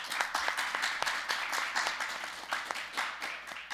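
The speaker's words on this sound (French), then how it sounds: "on peut l'applaudir" Audience applauding Professor Lacroix at a university panel on polarization and freedom of expression, steady moderate clapping from a seated crowd with distinct individual claps standing out, heard from a little distance.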